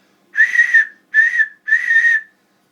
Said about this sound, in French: Un qui est déjà prêt et qui siffle.